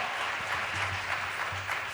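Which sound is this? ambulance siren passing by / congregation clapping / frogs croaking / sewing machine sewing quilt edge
congregation clapping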